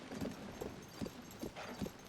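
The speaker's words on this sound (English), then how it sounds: "But I'm gonna ride my horse all the way through." Horse hooves clip-clopping in Zelda: Tears of the Kingdom near Kakariko Village, a steady rhythm of about five soft thuds over game ambience.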